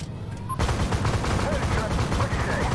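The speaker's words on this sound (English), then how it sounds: "The turret would have been armed with a twin-length 35mm Bushmaster Mark III autocannon, which you see me using here" A twin 35mm Bushmaster Mark III autocannon on an M1 AGDS fires in Armored Warfare, opening after a brief pause into a loud, sustained rapid burst of close, continuous gunfire.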